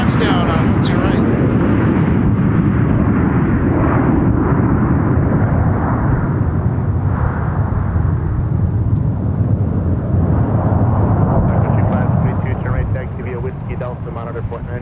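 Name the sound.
Sun Country airliner landing at Minneapolis airport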